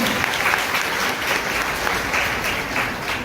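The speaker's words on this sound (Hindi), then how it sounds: "एक बार जोरदार तालियां इस लेवल के लिए" An audience at a Hindi business plan presentation applauds the Topaz level, a steady wash of many hands clapping at moderate volume, with no talk over it.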